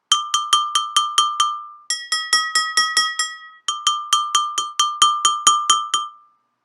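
A glass container full of milk is tapped in three quick bursts of bright, bell-like clinks. Each strike rings clearly and decays briefly in a quiet setting with no talking.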